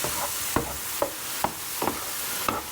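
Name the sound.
shallots and mushrooms sizzling in a pan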